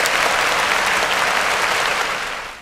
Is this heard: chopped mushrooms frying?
no